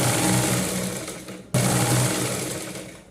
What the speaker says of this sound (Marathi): ज्यावेळेस आपण भाग जॉईंट करतो त्यावेळेस लक्ष देऊन हे आपल्याला शिवून घ्यायचे आहे